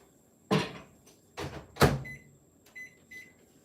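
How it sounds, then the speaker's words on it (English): A microwave oven holding dark chocolate melting wafers: a loud door clunk, two more thuds, then a few short electronic beeps over a faint steady hum, close by and without talk. "I'm going to stick some dark chocolate melting wafers into the microwave"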